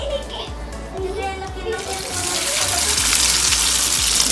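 Egg-battered guasontle frying in hot oil in a frying pan, the sizzle swelling into a loud, steady broadband hiss about halfway through and continuing to the end.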